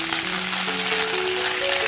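Curry leaves and mustard seeds crackle and sizzle in hot sesame oil while a pickle is being tempered. The steady frying hiss runs through the whole clip with a faint tonal hum beneath it.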